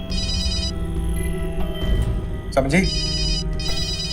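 A telephone rings repeatedly in an electronic trill, with people talking over and between the rings.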